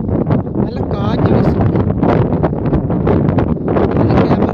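Wind blowing across open farmland on a hillside road in Palakkad, Kerala, a steady rushing buffet on the microphone from start to finish, with a person talking over it.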